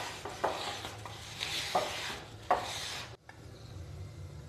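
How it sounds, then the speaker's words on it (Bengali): Patisapta batter is whisked in a bowl, with three or four brisk, wet stirring strokes, each with a sharp clatter against the side, close and moderately loud, ending in a brief pause. "ব্যাটারটা ভালোভাবে একবার ফেটিয়ে নেব।"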